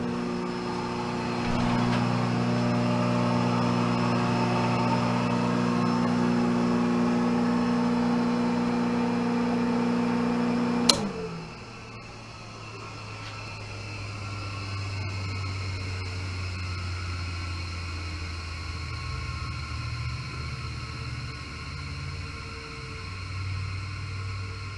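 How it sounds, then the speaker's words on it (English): A rotary phase converter in a machine shop hums loudly and steadily with a layered motor whine, then is switched off with a sharp click and slowly winds down into a long, fading spin. "Let's go turn the phase converter off."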